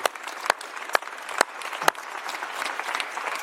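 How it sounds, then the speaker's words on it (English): An audience claps at a UK election campaign event, producing a few loud sharp bangs at first and then a looser, lighter spread of applause. "that's worth a round of applause, isn't it?"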